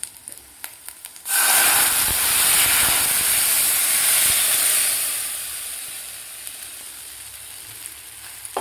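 Buttermilk and barnyard millet flour batter hits a hot pan with a sudden loud steaming hiss and sizzle that starts after a quiet moment and slowly fades as it settles.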